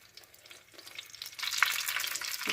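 Cooking oil warming in a clay pot starts as a faint hiss, then swells into a louder, steady crackling sizzle halfway through, heard up close with no talking.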